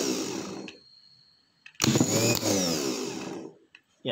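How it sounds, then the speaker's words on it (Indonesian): Starter motor dynamo spinning freely in a no-load bench test, a loud close whirring burst that stops, then a second longer run of whine and rattle that cuts off abruptly. "Ya, itu adalah pengujian tanpa beban untuk dinamo starter"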